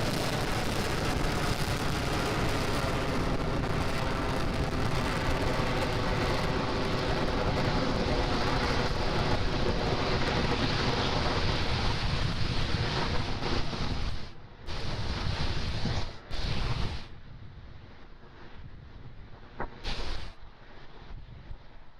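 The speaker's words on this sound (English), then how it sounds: "M1D engines are throttling down, getting ready to reduce vehicle acceleration in preparation for the period of maximum dynamic pressure" Falcon 9 Merlin 1D engines roar during ascent on the ANASIS-II launch, a dense, continuous broadband rumble that briefly drops out and thins near the end.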